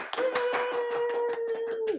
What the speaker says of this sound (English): Clap it up for Jamie.